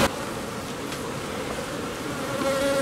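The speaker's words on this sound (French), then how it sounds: "c'est écouter les abeilles" Honeybees kept by a beekeeper on Tetiaroa atoll in French Polynesia hum in a dense, steady buzz near the hive, a continuous swarm drone with no voices.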